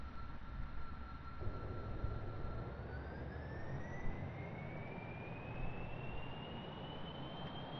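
Jet engine on a jet-powered pontoon boat in Kerbal Space Program roars steadily and loudly, with a rising whine sweeping upward in pitch as thrust builds, a continuous dense rumble with no talk.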